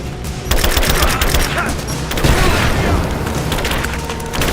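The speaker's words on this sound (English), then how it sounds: "Laying down cover and fire!" Heavy gunfire and explosions in the video game Rise of the Tomb Raider, a loud, dense barrage of shots and impacts with splintering debris, sustained throughout a combat scene.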